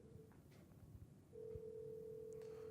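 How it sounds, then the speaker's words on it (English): A mobile phone in a pocket rings with an incoming call from a door camera system, giving a faint, steady, unbroken electronic tone that starts partway through over low background rumble. "My phone is ringing now."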